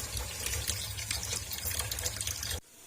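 Water running over raw meat being washed for dum biryani, a continuous splashing, trickling stream that cuts off abruptly near the end.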